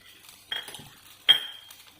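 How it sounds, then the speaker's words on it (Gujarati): A metal spoon stirring turmeric into milk, making two distinct clinks against the vessel with quieter scraping between, close and clear with no talking. "અને થોડું હલાવી નાખશું"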